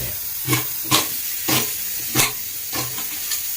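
A pressure cooker cooking mutton curry vents steam in a string of about six short, fairly loud hissing puffs at an irregular rhythm over a constant background hiss.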